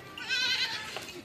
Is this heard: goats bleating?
yes